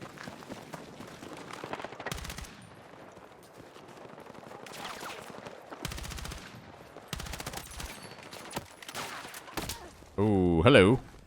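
Gunfire in the video game Battlefield 6 while shooting through walls: several short bursts of rapid shots separated by quieter gaps, with a louder burst near the end.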